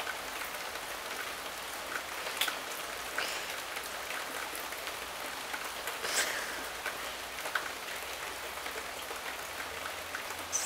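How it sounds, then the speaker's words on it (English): Steady rain patters on a surface, a continuous soft hiss with occasional louder drops, with no voices. "It's raining."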